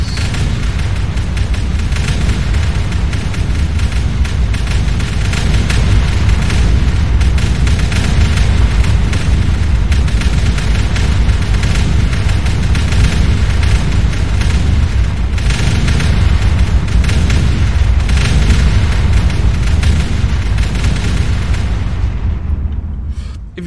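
Artillery shelling pounds biter bases in the factory-building game Factorio, a continuous loud rumble of overlapping booms and heavy explosions that fills the whole stretch without pause.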